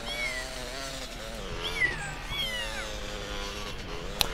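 Cat meows played as a sound effect over a spooky GTA San Andreas stream, several wavering cries layered over a dense, steady background with a brief sharp click near the end.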